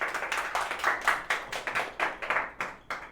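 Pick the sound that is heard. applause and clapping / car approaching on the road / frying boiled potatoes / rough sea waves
applause and clapping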